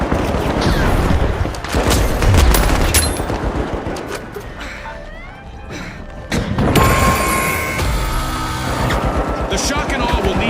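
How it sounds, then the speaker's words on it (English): Explosions and rapid gunfire from The Finals video game crash through a dense, loud firefight, a frag grenade burst among repeated sharp blasts and clatter, with a spoken voice running over the chaos. "Frag grenade sent."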